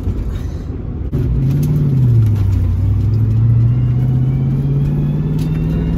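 A Fox Body Mustang with stock 2.73 gears launches in first gear from 2500 rpm on the street, the loud close engine rising into a steady, climbing drone after a brief idle.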